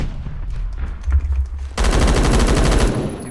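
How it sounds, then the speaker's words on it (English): Rapid automatic gunfire in the Phantom Forces shooter game, a loud, sustained, close burst that starts abruptly over low rumbling ambience and runs for over a second before cutting off. "Who was shooting at me?"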